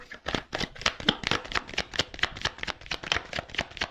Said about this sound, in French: Décidément, j'ai des cartes qui tombent.